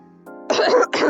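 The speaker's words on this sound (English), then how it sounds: "Sorry, I keep coughing." A short, close cough bursts out twice in quick succession after a brief vocal hum.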